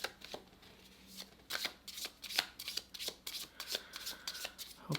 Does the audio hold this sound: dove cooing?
no